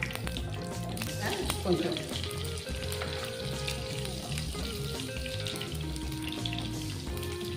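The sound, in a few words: green chillies and mustard seeds sizzling in hot oil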